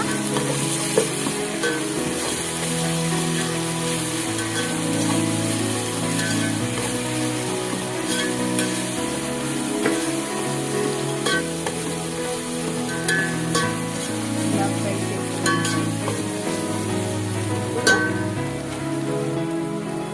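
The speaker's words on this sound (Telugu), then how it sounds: "1 టేబుల్ స్పూన్ అల్లం వెల్లుల్లి పేస్ట్ వేసి దీన్ని బాగా ఫ్రై చేసుకోవాలన్నమాట" Ginger garlic paste sizzles and fries steadily in a pan for Kerala biryani, a continuous crackling hiss with occasional stirring clicks over a low background hum.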